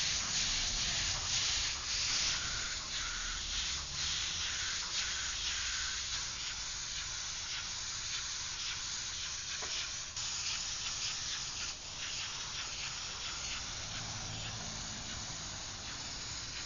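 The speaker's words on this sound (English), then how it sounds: "Okay, now we're ready to start spraying some color." An airbrush spraying paint, a soft continuous airy hiss with slight fluctuations as it is worked, steady and close but faint, with no talking.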